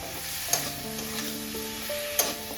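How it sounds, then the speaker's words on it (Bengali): Ginger and garlic sizzle quietly in a hot pan while being stirred for a bottle gourd and prawn curry. Two sharp clinks of the spoon against the pan punctuate the steady frying hiss. "আদা রসুনটাকে কষিয়ে নেব।"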